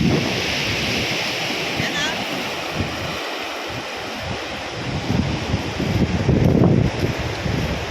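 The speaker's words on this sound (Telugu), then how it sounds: "ఎగసి పడుతున్నాయి అలలు" Sea waves rolling in and breaking on the shore at Thupilipalem beach, a steady broad wash of surf with wind buffeting the microphone and a swell near the end.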